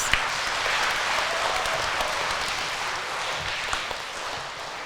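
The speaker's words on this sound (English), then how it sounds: "Let's give a round of applause to these performers." Audience applause for dulcimer club performers at a community event, a steady broadband wash of clapping that holds evenly for about five seconds at moderate, even loudness.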